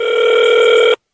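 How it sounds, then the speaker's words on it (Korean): A single telephone ring sounds, a loud, steady electronic tone lasting about one second before cutting off abruptly. "야, 정말 24시간이 전화 한번 해볼까?"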